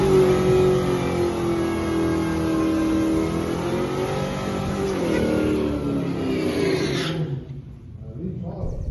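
The 4.6 litre V8 of a 1998 Ford Mustang GT (SN95, non-PI) revs hard and close, its pitch climbing steadily for several seconds before the throttle drops off near the end and the engine settles.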